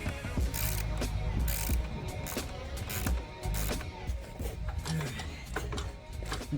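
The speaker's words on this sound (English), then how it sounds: "I'm jacking up on the lower control arm here" Steady ratcheting clicks from a jack raising a rusty plow truck by its lower control arm, dense and continuous over a low mechanical rumble, close and moderately loud.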